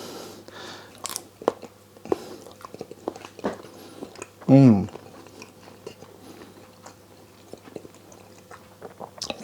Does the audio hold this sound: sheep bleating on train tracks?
no